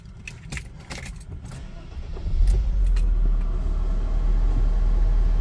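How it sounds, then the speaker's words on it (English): A 1994 Mercedes E280 W124 sedan with low mileage: faint handling noises and key jingles come first, then the engine cranks and catches at about two seconds and settles into a steady, smooth idle. "And there you go, the car starts right up."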